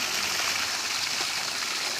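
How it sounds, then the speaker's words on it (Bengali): Water being poured out of a large pot holding live fish, a steady close rushing gush that runs unbroken and fairly loud throughout. "হাঁড়ির জল কমানো হচ্ছে।"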